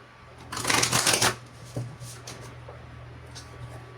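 A new deck of tarot-style cards gets riffled and shuffled close up, a dense, crisp flutter lasting about a second, followed by a few softer taps and card handling in a quiet room.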